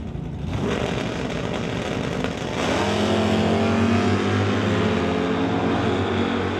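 A drag racing car makes its run at a racetrack in Mission, BC, its engine rising from a rumble into a loud, sustained roar with climbing, harmonic-rich tones as it accelerates away.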